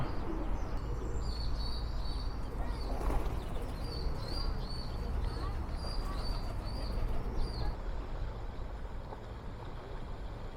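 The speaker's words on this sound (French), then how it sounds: "Ah, ici je vois des pigeons sous le pont." Pigeons coo in a repeated, soft rhythm under a bridge beside running water, with a steady broadband wash of flowing water and faint chirps throughout.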